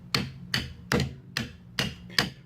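A hammer taps on wheel hub bolts during a wheel hub and bearing replacement on a 2005 Nissan Murano, making six sharp, evenly spaced metallic strikes, each ringing briefly before the next, close and clear with no talk.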